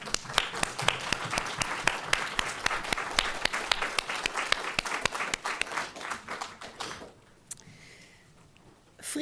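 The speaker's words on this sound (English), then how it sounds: "have the 9 scholars who came in to submit their articles stand up and give them a round of applause" An audience claps for nine scholars at a talk, giving dense sustained applause for about seven seconds before it thins to scattered claps and quiet room noise.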